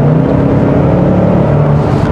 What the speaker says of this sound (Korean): 이 차가 그 배기음을 어느 정도 좀 강조를 해놨습니다